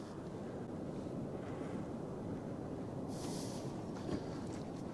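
Steady wind buffeting the microphone on a fishing boat drifting off the New South Wales South Coast, a dense continuous rumble with a brief hiss of water near the middle.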